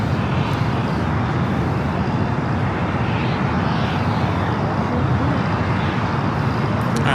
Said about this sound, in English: ANA Star Alliance Dreamliner, taking off there on the north side